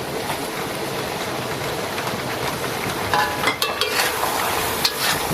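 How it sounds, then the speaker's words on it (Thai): Shiitake mushrooms stir-fry in a wok while a Thai mixed-vegetable stew (tom jap chai) is prepared, giving a steady close sizzle with scraping and clattering of the utensil against the pan, and no talk. "เห็ดหอมเอาไปผัดก่อน"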